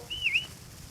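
A single short, clear whistle with a slight rising and dipping pitch, heard alone over a faint background hush, on a 1923 recording.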